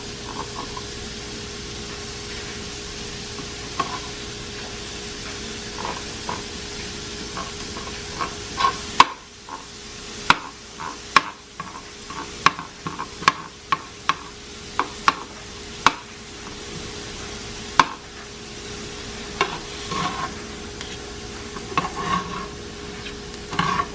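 Chopped steak for a Philly cheesesteak sizzles steadily on a hot griddle, with frequent sharp metal spatula scrapes and taps as the meat is flipped and turned, up close and without talk.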